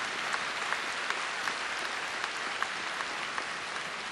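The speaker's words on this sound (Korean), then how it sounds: "여러분 뜨거운 박수로 환영해 주시기 바랍니다" A large audience gives a dense, steady applause to welcome guests at the 2007 WCSF opening ceremony, a continuous wash of clapping with a few sharper claps standing out and no talk.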